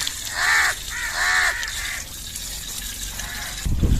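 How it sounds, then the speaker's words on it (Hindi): Crows caw outside in a neighbourhood, several harsh repeated caws at a moderate distance, followed by a brief gush of running water near the end, with no talking. "कौवे भी ऊपर आए हुए हैं इधर।"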